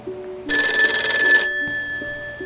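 A telephone bell rings loudly in one sustained burst of about a second, then stops, leaving a low background hum.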